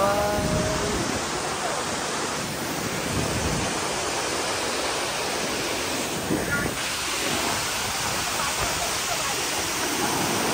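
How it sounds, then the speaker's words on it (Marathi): Water rushes and roars under pressure at a waterfall by a dam in Jambhe, a steady broadband wash with wind buffeting the microphone and faint voices from a crowd. "बघू शकता काय प्रेशरला पाणी चालू आहे"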